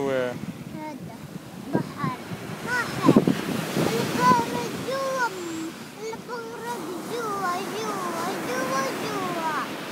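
Waves washing onto a beach, with wind buffeting the microphone, sit beneath an adult and someone talking back and forth over a steady surf wash.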